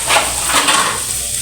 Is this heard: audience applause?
no